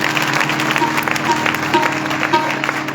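Congregation applauding during a live worship service in Raiwand, a dense continuous wash of clapping at moderate level with faint background voices and tones.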